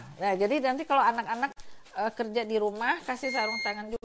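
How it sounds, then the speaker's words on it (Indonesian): A digital kitchen scale gives a steady electronic beep during mochi making, sounding briefly under continuous talking near the end. "Itu adalah bunyi timbangan ini loh"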